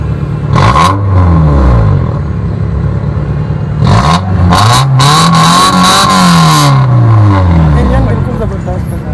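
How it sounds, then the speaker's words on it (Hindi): A Honda Civic engine revs up in repeated bursts, rising and falling in pitch, loud and close, with people talking over it. "ये इंजन का साउंड सुने जी। थोड़ी रेस है, थोड़ी रेस दे जी।"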